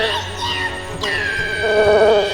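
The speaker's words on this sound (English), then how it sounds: "So you hear buzzing" Bees buzzing as a sound effect, a steady insect drone with a rising and falling pitch sweep as if a swarm flies past close by, continuous and fairly loud with no talk.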